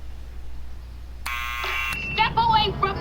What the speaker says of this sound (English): Start with the buzzer.